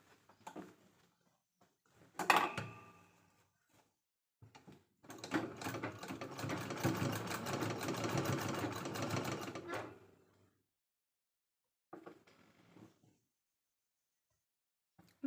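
A domestic sewing machine runs a steady finishing stitch around the folded top edge of a fabric bag sewn from leftover blouse cloth, a continuous mechanical whir of about five seconds after a brief clunk, with short bursts around it.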